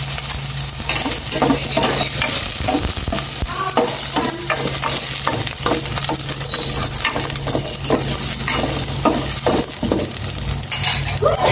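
Onion stir-frying in a pan while cooking sinigang, with a loud, constant sizzle and busy, rhythmic scraping and clinking of a utensil against the pan throughout, no voices.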